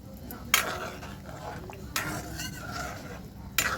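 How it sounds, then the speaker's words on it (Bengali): Eggplant pieces go into a pot of boiling potato curry, with three sharp clatters of pieces or a spoon hitting the pot spaced over a low bubbling simmer, close by. "এখন হচ্ছে গিয়ে বেগুনটা দিয়ে দেবো।"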